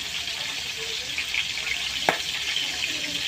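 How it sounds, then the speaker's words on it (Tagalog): Dried milkfish, daing na bangus, fries in hot oil with a steady loud hiss and crackle throughout, plus one sharper pop of splattering oil midway, and no voice over it. "lakas ng tilasik"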